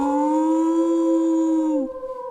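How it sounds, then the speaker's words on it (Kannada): A dog lets out a single long, tonal howl that holds steady and then bends downward as it fades, loud and close. "ಊಳಿಡೋಕೆ ಶುರು ಮಾಡುತ್ತೆ."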